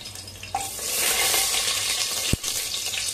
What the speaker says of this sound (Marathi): चांगलं गरम झालेलं आहे. जिरे घालूया. त्याच्यातच एक तेजपत्ता टाकूया.